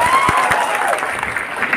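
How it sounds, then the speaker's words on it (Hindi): Audience applause for the host at a Bhil Pradesh Sandesh Yatra gathering at Mangarh Dham, a dense steady clapping from a crowd that fills the whole short stretch at an even level. "संचालक महोदय के लिए जोरदार तालियां बजा दीजिए।"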